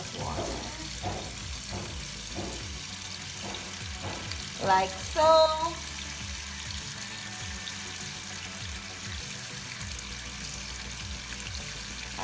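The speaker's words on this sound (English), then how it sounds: "you fill it with a second round of water" Water from a kitchen tap runs into a pot for a second rinse while cooking stew peas, a steady splashing rush with clinks of the pot, close up, with a brief spoken remark midway.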